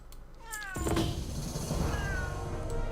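A cat in the video game World of Warcraft gives a clear drawn-out meow, then a longer wavering caterwaul over steady background ambience, close and fairly loud.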